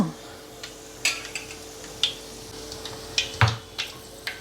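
Mustard, cumin and fenugreek seeds pop in hot oil for a fish curry, giving sharp irregular crackles and ticks over a faint sizzle, with a few louder snaps near the pan and no talking.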